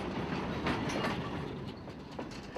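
Freight train of large wood-chip hopper cars serving a paper mill rolls steadily past nearby, a continuous loud rumble with rhythmic wheel clatter and no voices.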